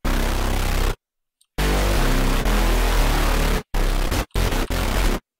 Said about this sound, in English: I'm going to do a little bit of a dark synth bass tutorial.